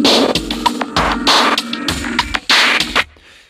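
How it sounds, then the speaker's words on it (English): A remix clap effect audio loop plays on its own, sounding as loud, bright repeated claps in a syncopated rhythm with brief gaps, then cutting off into near silence at the end. "I've dragged in another audio loop here, which is a remix clap effect, which sounds like this on its own."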